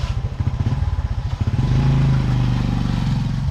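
A motorcycle engine putters nearby on a slippery road with a rough, pulsing idle, then revs up into a steadier, louder drone.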